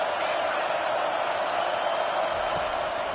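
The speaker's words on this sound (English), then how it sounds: "this crowd is tearing the lid off this place" A stadium crowd roars in a College Football 25 game, Miami against Florida State, as a steady, dense wall of noise holding level throughout, loud and close.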